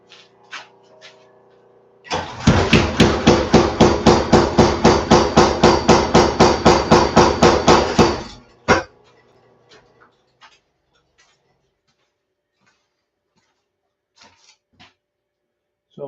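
A power hammer with about a 100-pound ram forges a coal rake, pounding out a fast, even run of loud, close blows for roughly six seconds before stopping, followed by a few faint scattered taps.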